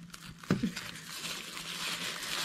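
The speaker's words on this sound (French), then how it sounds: "Ben, je joue avec le papier." Paper crinkles and rustles close by in uneven bursts, with a soft thump near the start, as a cat plays with it.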